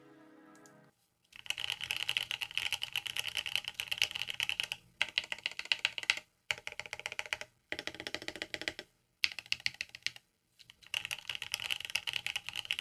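Fast typing on a Laneware Peripherals LW-75 prototype keyboard fitted with Gateron Oil King switches, close and steady in several dense bursts separated by short pauses, with no talking.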